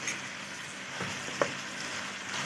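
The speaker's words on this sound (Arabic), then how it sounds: "بسيبها بقى مع بعضها تتشوح 5 دقايق" Peas frying with onion, cumin, pepper and a spoon of ghee in a pan, a steady soft sizzle with one brief clink near the middle.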